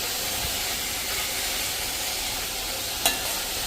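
Cabbage sambharo with turmeric cooks uncovered in an open pan, giving a steady, close sizzle and hiss with a single brief clink near the end.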